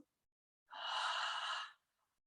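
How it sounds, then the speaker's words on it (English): A single strong breathy exhale with a voiced ha during yoga breathing practice, close and clear, lasting about a second against an otherwise silent room. "Strong exhale with a ha"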